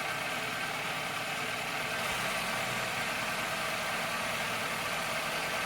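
A 2001 Toyota Camry CE with a blown-out radiator idles while warming up, giving a steady, even engine hum with no talking.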